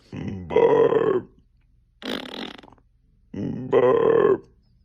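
Two drawn-out, croaky burps up close, each swelling louder midway, separated by a brief breathy grunt; a playful, exaggerated belch routine with nothing else heard.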